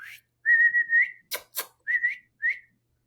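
A person whistles a short tune of sustained, slightly wavering notes while a dog is being photographed indoors, with two brief sharp clicks in the middle; the whistling is clear, close, and without talk.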